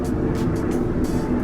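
A helicopter passes near a home by military bases, a steady broad rumble with faint rhythmic rotor pulsing throughout, fairly loud and with no talk.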